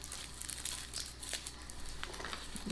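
Foil-type wrapper crinkles and rustles in quick, faint, irregular bursts as a small Guinness chocolate truffle is unwrapped close by.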